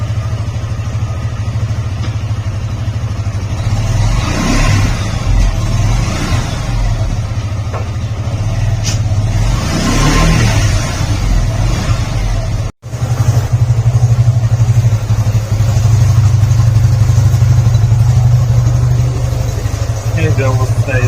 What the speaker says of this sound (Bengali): দেখি বাইক স্টার্ট দিই।